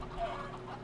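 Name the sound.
chicken clucking in a video game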